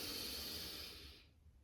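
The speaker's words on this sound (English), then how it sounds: "you should be able to hear yourself. It should be audible, the breathing." Deep, audible breathing during a prenatal core ab workout: a long, close breathy hiss of exhaled air that fades out near the end, with no talking.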